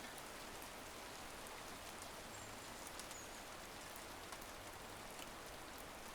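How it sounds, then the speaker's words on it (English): Rain in the video game A Storied Life: Tabitha, a soft, steady hiss of falling drops with scattered faint patters, continuous and even, fairly quiet with no voices. "The rain sounds really relaxing."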